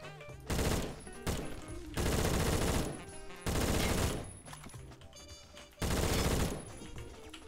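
Rapid automatic gunfire in a Roblox video game, several bursts of dense, crackling shots separated by short pauses, loud and close.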